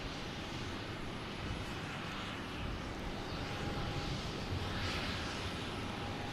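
An American Airlines A319 airliner rolls off the runway at Boston Logan Airport, its engines a faint, steady distant roar with a soft rising and falling whoosh.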